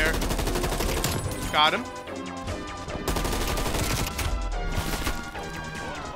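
Rapid bursts of automatic gunfire in the video game Call of Duty Cold War, loud and near, ringing over game music with a short pause, while a player speaks briefly.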